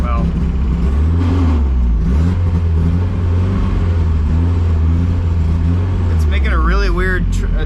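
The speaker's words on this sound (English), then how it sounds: "it's making a really weird sound out of the trans that I haven't heard before" A drift car engine drones and revs loudly and steadily with a mechanical whine, the transmission making an odd, unfamiliar noise; a voice speaks briefly near the end.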